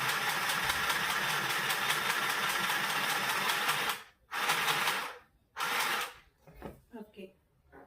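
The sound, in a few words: mini sewing machine stitching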